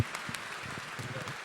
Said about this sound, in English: Let's give our guest a big round of applause